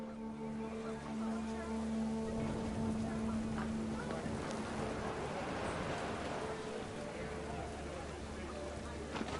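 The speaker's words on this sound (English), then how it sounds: "The rain came down in buckets then," Steady heavy rain in the video game What Remains of Edith Finch pours down as a continuous hiss with low rumbling underneath, while a voice speaks quietly over it.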